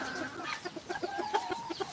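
A cluster of chickens clucks in quick, rhythmic bursts close by, the short pulses tumbling over each other in a busy farmyard chorus.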